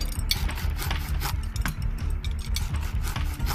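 Pipe-crafting in the video game Void Train: a continuous, loud mechanical grinding and ratcheting clatter with rubbing and rasping textures, steady with no talking.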